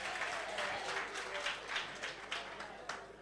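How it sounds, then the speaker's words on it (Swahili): A church congregation claps in a steady, moderately loud wave of applause, with a voice murmuring faintly underneath. "Wapigieni makofi."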